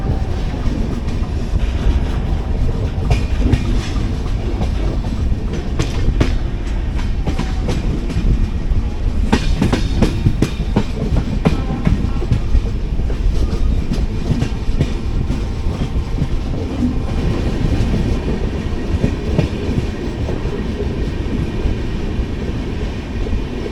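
A 16217 Mysuru-Shirdi Express runs steadily, with a continuous loud rumble of the coaches and a rhythmic clickety-clack of wheels over rail joints heard from on board.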